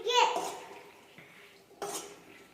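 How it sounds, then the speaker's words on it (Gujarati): A spoon scrapes and clinks against a pan as pasta is mixed, two short metallic bursts with quieter scraping between, close and fairly quiet. "કલર આવવા માટે હવે આપણે મિક્સ કરી"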